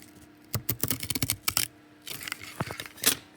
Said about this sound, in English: Take a pair of scissors and cut them